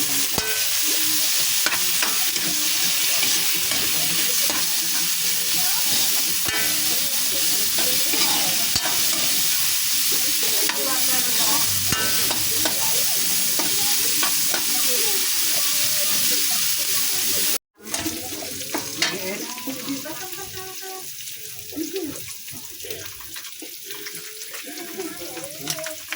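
Meat frying in a pan with garlic and onion for pancit with lobster, a steady loud sizzle with stirring scrapes throughout, a brief dropout near the end, then sizzling resumes with faint tap-water sounds.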